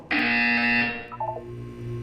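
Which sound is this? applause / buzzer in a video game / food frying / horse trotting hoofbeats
buzzer in a video game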